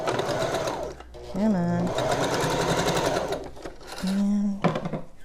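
Sewing machine stitching a fabric breathing mask, running in several short bursts of whirring stitches between pauses, close and fairly loud, with a person talking over it.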